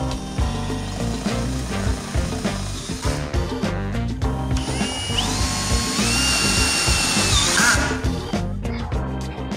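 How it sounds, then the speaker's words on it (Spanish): A power drill drives self-tapping hex-head screws into steel profiles on a truck camper subframe, with loud, continuous whirring and grinding interrupted by short bursts and pauses. "Para ello utilizaremos tornillos autorroscantes de cabeza hexagonal."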